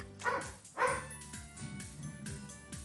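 A dog barks indoors, two quick close barks followed by softer yips and whimpers, with no speech.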